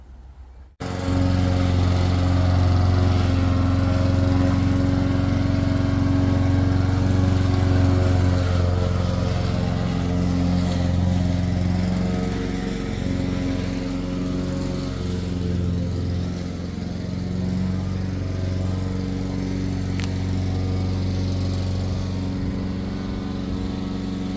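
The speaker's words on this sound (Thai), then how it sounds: "เสียงพ่อบ้านเพิ่นตัดหญ้า" A lawn mower's small gas engine starts abruptly and runs steadily nearby while cutting grass, a loud buzzing drone with slight shifts in pitch as it works, continuing to the end.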